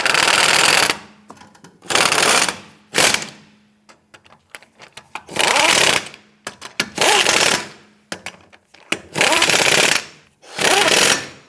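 A power tool snugs down the lug nuts on a Nissan Rogue wheel with loud, close hammering bursts of about a second each, repeated around six times with short clicking pauses between.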